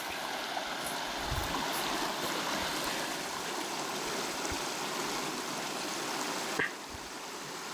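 Steady river water flowing through a quiet Minnesota river valley near a beaver dam and large boulders, a continuous close rush with a brief louder splash near the end.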